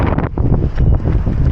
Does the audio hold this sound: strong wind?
yes